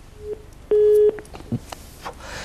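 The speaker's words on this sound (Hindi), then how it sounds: "लगता है नीरव से हमारा फोन डिस्कनेक्ट हो गया।" Short electronic phone tones sound during a disconnected telephone call, one brief beep followed by a steady held tone of about half a second, then faint rustle and room noise.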